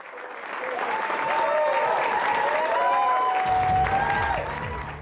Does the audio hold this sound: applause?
yes